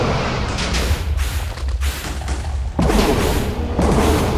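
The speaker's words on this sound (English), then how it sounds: "he's more being damaged by the tremors than he is by the explosion" A Minecraft mob battle between the Wither and Gojicraft erupts in heavy explosive booms and rumbling tremors. The roar is loud and continuous, with a fresh blast surging partway through.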